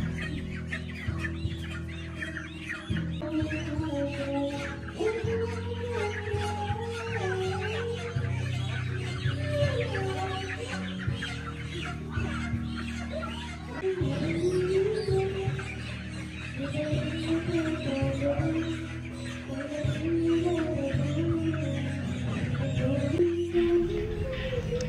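Chickens clucking and squawking at a backyard slaughter setup, many birds calling continuously over about twenty-five seconds, close and fairly busy, with overlapping cackles and occasional sharper squawks.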